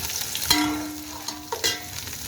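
Carrots and capsicum stir-frying in a pan with golden-browned garlic for Chinese fried rice, a steady soft sizzle with a few clinks and scrapes of stirring, fairly quiet.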